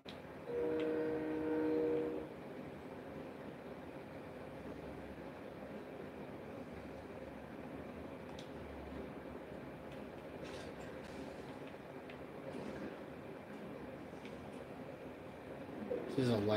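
A train rolls along steadily in a video game as debris falls off its side, a low continuous rumble heard faintly beneath a person talking over the gameplay.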